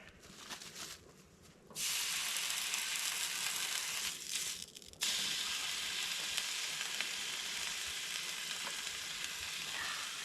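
Bacon frying in a pan outdoors, three strips laid in one after another so the steady crackling sizzle surges loud and stays close, with brief quieter gaps between.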